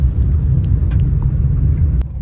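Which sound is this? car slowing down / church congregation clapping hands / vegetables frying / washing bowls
car slowing down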